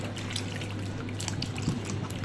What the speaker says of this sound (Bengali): এই তো মিষ্টি কুমড়ো কেটে ফালি করে ধুয়ে নিচ্ছে।